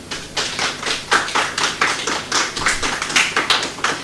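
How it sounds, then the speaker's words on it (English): Sparse clapping from a few people in a literature festival panel audience, individual claps clearly audible in an uneven rhythm, fairly close. "we need to work on the applause level also"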